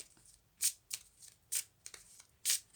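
Tarot cards shuffled and drawn by hand, several quiet, crisp riffling bursts at uneven intervals with near-silence between them.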